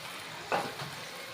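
A brief sizzle and stir of ingredients sautéing with chili powder in a pan, one short scrape-and-hiss burst over a quiet, steady background.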